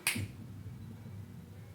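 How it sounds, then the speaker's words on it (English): A single sharp finger snap near the start, close and crisp, followed by a low background hum with no other sound. "I snap my fingers."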